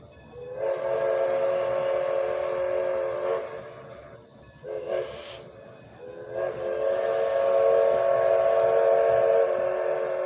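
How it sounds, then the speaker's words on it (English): A loud steam whistle blows long sustained blasts, pausing briefly and then sounding again, strong and fairly close over a faint rumbling background. "This loud fucking whistle blowing."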